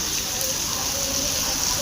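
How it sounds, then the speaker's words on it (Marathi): Rain pours down in a steady, dense hiss, loud and unbroken across the whole moment, with faint hints of speech under the downpour. "हे बघा परत एकदा आलाय पाऊस."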